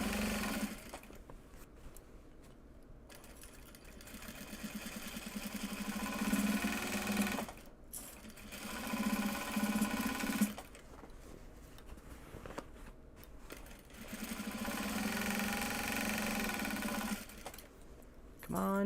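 A Juki sewing machine runs in steady bursts, its motor humming and needle chattering, pausing briefly between stretches of stitching.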